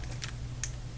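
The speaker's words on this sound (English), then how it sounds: "you can put the keys in there and twist, and then you can" A key slid into a Schlage digital door knob and twisted to unlock it, giving two short, light metallic clicks about half a second apart, close and quiet over a low steady hum.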